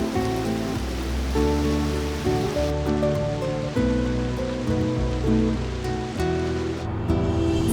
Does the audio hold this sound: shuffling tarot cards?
no